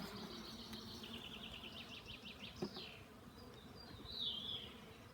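Honey bees fly around a beehive while a colony is split from a national hive into a flow hive. A faint, continuous buzzing drones on, with a brief bird-like chirp and a small knock partway through.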